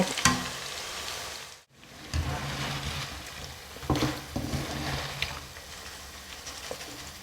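Battered chilies deep-fry in hot oil in a home kitchen until the coating turns golden and crisp. A steady crackling sizzle with small bubbling pops runs throughout, briefly dropping out partway through before resuming.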